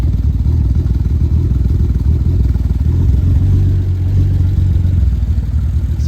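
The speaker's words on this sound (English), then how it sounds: "when it goes into that low rev, the engine shakes pretty badly" A turbocharged BMW E46 engine idles at low revs with a rough, shaking rumble, a steady loud mechanical drone with constant clatter and no voices.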